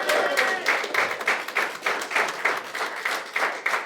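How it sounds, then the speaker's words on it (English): An audience at a fundraising draw for a GAA club applauds. The clapping comes in uneven bursts of a modest crowd, loud and close, rising and dipping throughout. "a huge round of applause to Clonagale GA Club"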